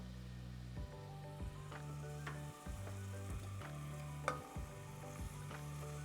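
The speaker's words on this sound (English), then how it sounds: "And everybody, hear that sizzle." Onions sizzling steadily in a hot pan, a soft continuous crackle with a faint rhythmic stirring scrape, no voices.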